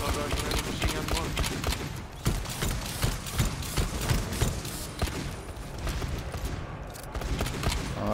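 Sustained heavy assault rifle fire in the video game GTFO, dense rapid shots continuing throughout with clattering mechanical game sounds layered on top.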